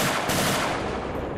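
An FG-42 rifle firing in the WW2 video game Ancient Warfare 3, a loud, dense burst of rapid automatic gunfire that fills the whole moment with no talking.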